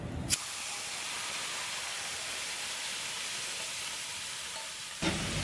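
Garlic paste with asafoetida hits hot oil in a pan, giving a steady, soft hissing sizzle that runs evenly for several seconds before a brief clatter.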